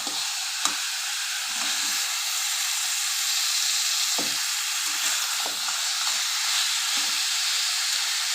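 Water poured into hot, sizzling masala for a Bengali crab curry gives a loud, steady hiss and sputter, broken by a few soft clicks and knocks from the pan and utensil.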